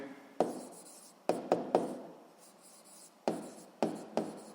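A pen writes by hand while working a physics problem on figure volume, giving several close, scratchy bursts of strokes separated by short pauses, with no talking.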